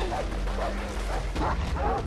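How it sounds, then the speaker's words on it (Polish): Dogs in Far Cry 3 barking while giving chase, a quick series of repeated yapping barks over a dense, noisy game background with a voice mixed in. "Jeszcze psy mnie za mną gonią."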